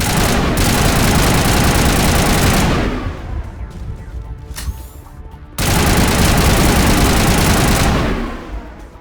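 Heavy automatic weapon fire from the Mass Effect video game, two long loud sustained bursts with a short pause between them, dense and continuous with no talking.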